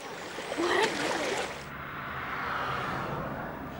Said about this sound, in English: people take advantage of a burst water main in the capital city, Harare